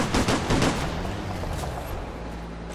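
Enemy gunfire in the military shooter Operation Flashpoint: Red River, a quick cluster of loud nearby rifle and machine-gun shots at the start that fades into a lingering echoing rumble.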